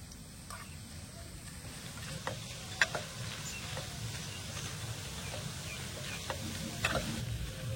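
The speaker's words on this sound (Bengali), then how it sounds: "এবার আমি হালকা আছে একদম মুচমুচে করে ভেজে নেব।" Chanachur snack pieces fry in hot oil until crispy, giving a soft steady sizzle with scattered light clicks and taps of stirring, heard close up and without talking.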